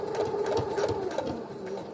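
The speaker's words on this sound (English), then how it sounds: "I backstitch over the elastic to make it a little bit more sturdy" A sewing machine runs steadily while backstitching over the elastic of a fabric face mask, a close, continuous mechanical whir with a quick rhythmic needle chatter, heard alone.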